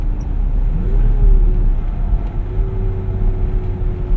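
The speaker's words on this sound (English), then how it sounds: "We finished our test drive of the 1987 Toyota pickup truck." A 1987 Toyota Xtracab 4x4 pickup truck engine running on a test drive: a steady, loud low rumble with slight shifts in pitch as it pulls along, with no voices.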